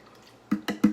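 Water splashes into a pressure cooker holding spaghetti in three quick, close pours after a quiet moment, each a short wet slosh.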